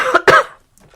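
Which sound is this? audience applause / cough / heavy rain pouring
cough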